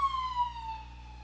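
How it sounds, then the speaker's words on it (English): An ambulance siren wails at a distance, its falling tone sliding steadily lower as the ambulance moves away. "Did an ambulance go by or something?"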